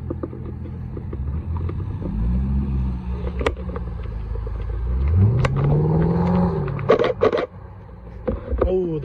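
Corvette C5 sports car leaving the Oulton Park circuit, its V8 rumbling and revving as it accelerates away close by, with other passing traffic and brief voices in the background.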